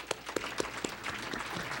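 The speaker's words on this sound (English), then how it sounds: "And another round of applause, please, for the three presenters." An audience at a conference session on group statistics, relations and transactions applauds the three presenters with a short burst of scattered clapping that starts with distinct claps and thickens into steady, moderately distant applause.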